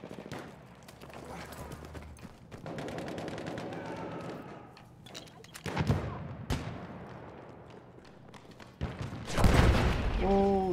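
Battlefield 1 gunfire crackles in repeated bursts and scattered single shots, with louder booming blasts near the middle and the end, all up close.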